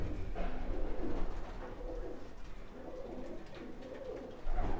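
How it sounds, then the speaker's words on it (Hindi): Pigeons coo softly in a breeding setup, the low burbling calls repeating under steady background noise with no talking. "ये नर बहुत ही जबरदस्त क्वालिटी के कबूतर इसमें देखिए दोस्तों।"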